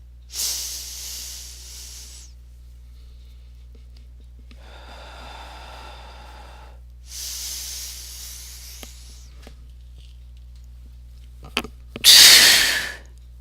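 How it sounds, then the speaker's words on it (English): Forceful hissing exhalations from a breathing exercise for relaxation and insomnia, several long sharp hisses separated by quieter breathing, with a final loud, harsh burst near the end, close and alone without talk. "this time I'm going to do this with the breathing"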